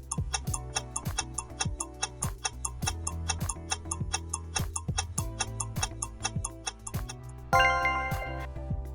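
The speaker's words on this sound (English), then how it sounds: "Try to answer before the timer runs out." Steady ticking of a countdown timer, a regular clock-like tick-tock with a faint chiming layer, holding an even rhythm throughout and ending in a brighter ringing burst near the end, with no talking.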